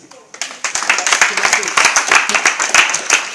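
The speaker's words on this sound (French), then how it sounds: "Il faut l'applaudir encore" An audience breaks into applause for a speaker after a talk, the clapping swelling quickly into a dense, steady patter of many hands that keeps going to the end.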